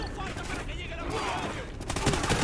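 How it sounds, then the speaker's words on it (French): Gunfire in the video game Call of Duty Ghosts: loud bursts of rapid shots crackle over a dense battle din, with a voice briefly heard beneath the shooting. "Attends, Riley, s'il attaque la cible, tire pour tuer."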